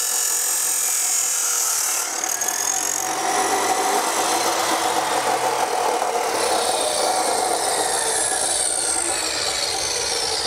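Sawing through a metal pipe from an RV ladder railing on a 2021 Keystone Passport SL travel trailer, then filing its burrs: continuous loud rasping, grinding strokes running steadily throughout with no speech.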